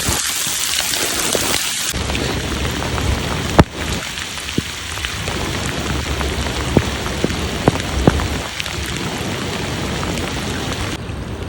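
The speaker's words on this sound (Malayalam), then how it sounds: "മഴ തുടർന്നു കൊണ്ടിരിക്കട്ടോ" Heavy rain pouring steadily on surfaces in a waterlogged area where roads and streams have merged, a dense continuous hiss with scattered sharp drop impacts and a brief louder crack early on.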